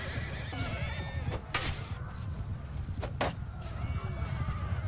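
Horses neigh and whinny several times during a cavalry charge in the video game Mount & Blade II: Bannerlord, over a steady rumble, with hooves clip-clopping and sharp bursts between the calls.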